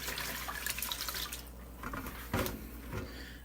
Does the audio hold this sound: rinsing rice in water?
yes